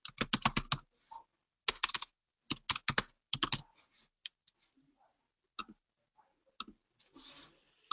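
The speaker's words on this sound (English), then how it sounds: "So I'll be typing the prerequisites." Typing on a computer keyboard, close and crisp: quick bursts of key clicks in the first few seconds, then sparse, scattered taps with pauses between them.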